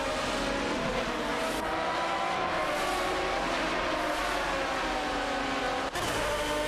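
A Lamborghini Murcielago RGT and an Aston Martin DBR9 race each other in a video game, engines droning loud and continuous with shifting pitch, with a brief dip near the end.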